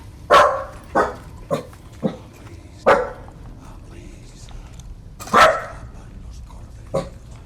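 Dog barking in the video game Resident Evil 4 Remake, with a series of sharp, separate barks spaced about a second apart, loud and fairly near, one louder bark near the end.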